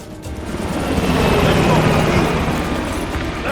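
A helicopter in Call of Duty: Black Ops Cold War roars loud and close with a dense rotor rumble, swelling then slowly easing as it pulls away.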